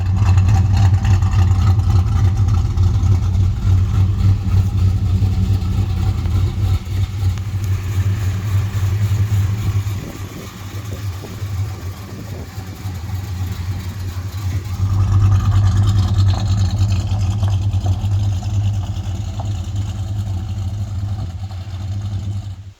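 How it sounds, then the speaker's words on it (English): A 1968 Chrysler Newport Custom fitted with Holley Sniper fuel injection and Hyperspark ignition rumbles steadily at close range, its engine note dipping midway and then swelling again as the car pulls away; no talking. "that was Jesse leaving with the car"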